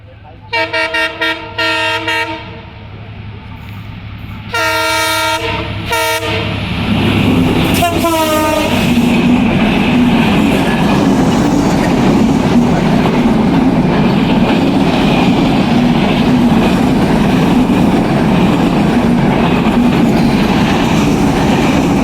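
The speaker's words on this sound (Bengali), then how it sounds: "দেখেন এই মাত্র ট্রেনটা কিন্তু চলে আইতেছে।" A train on a railway line sounds several loud horn blasts as it approaches, then roars past up close with a heavy, steady rumble and rattle of wagons that fills the rest of the scene.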